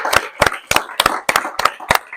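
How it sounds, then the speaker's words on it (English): Audience members clap for a congressman at an event in the MLK Library. Sharp, distinct claps land in a steady rhythm at close range, with no talking. "How about a round of applause for Congressman?"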